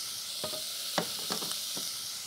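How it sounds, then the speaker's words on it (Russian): Beef sizzles steadily in a hot sauté pan, a constant close hiss broken by a few soft scrapes and stirring clicks. "И я вот эту говядинку кладу в сотейник. И обжариваю все вместе."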